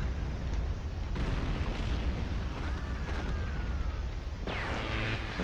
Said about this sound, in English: I see that the artillery cannons are doing their work.